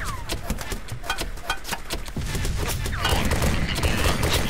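Dense war-game gunfire, rapid overlapping shots and bursts crackling continuously and growing heavier and louder toward the end, with battlefield chaos behind, no talk.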